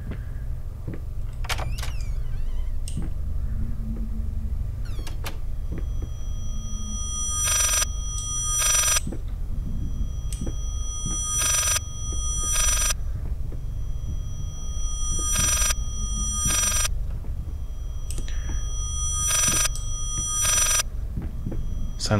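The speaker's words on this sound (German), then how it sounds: "Ein rückwärts klingelndes Telefon." A telephone ringing backwards in the horror video game Layers of Fear, heard as repeated bursts of reversed electronic ringing at regular intervals over a constant low ambient rumble, with scattered clicks.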